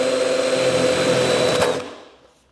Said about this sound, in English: I'm using a regular step drill bit to put a hole right in the middle of this junction box cover.